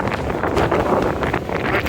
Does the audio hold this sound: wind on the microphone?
yes